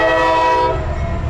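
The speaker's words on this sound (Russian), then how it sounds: "Думали, что здесь нас не будут это доставать поезда, да? Все равно столкнулись." A close, loud train horn blasts as the train passes, a sustained chord that fades into low rumbling rail noise.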